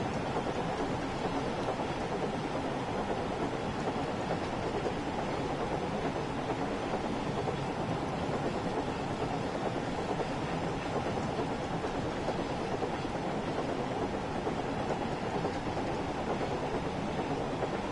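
A train running in Train Sim World 5 gives a continuous loud, broad rumble with a clattering rolling texture, steady and unchanging throughout, with no speech.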